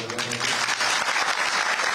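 Applause from a crowd at a farmers' protest rally, brief dense clapping heard at moderate distance.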